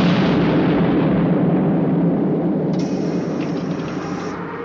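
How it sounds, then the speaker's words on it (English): In Captain Scarlet and the Mysterons, a loud explosive blast bursts open a secured door, a heavy broadband roar that rumbles on and slowly fades over several seconds, with no speech. "One little bang in the right place and she's open"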